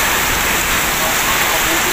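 Heavy typhoon rain pouring onto a flooded street in Bay, Laguna, a dense, loud, continuous hiss of rainfall with no break, close and enveloping.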